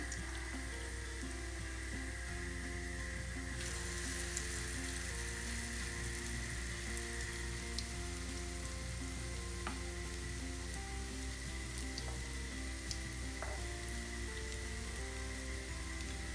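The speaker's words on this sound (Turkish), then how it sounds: "arkalı önlü kızartmaya başlıyoruz" Zucchini and carrot fritters fry in hot oil with a continuous close sizzle and crackle, broken by a few faint clinks.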